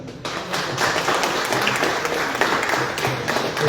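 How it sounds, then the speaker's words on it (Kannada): Audience applause at a Rotary Tumakuru motivational talk, a dense steady wash of many hands clapping that swells in quickly and holds for several seconds, with no voices over it. "ಚಪ್ಪಾಳೆ."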